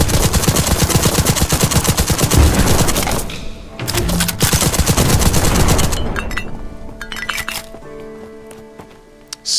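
Cannon fire in the video game Black Skylands: loud, rapid, repeated booming bursts crowd the first several seconds, then thin out into scattered clinks and thuds as the barrage fades. No one speaks.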